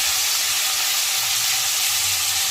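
Ground spice paste and chopped tomato hit fried potatoes in hot oil, giving a loud, dense, continuous hiss of sautéing heard close up for a couple of seconds with no talking.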